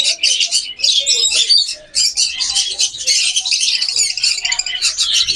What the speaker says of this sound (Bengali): জোড়ায় জোড়ায় অনেক লাভবার্ড আছে